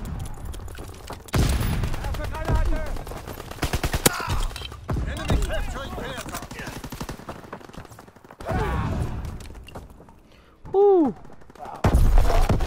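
Rapid bursts of gunfire in the video game Call of Duty WWII, with several separate clusters of shots, loud and close, mixed with in-game effects and a player's voice talking and exclaiming between bursts.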